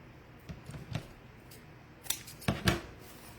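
Scissors snipping ribbon for making bows, a few quiet scattered cuts followed by a closer, louder cluster of quick snips.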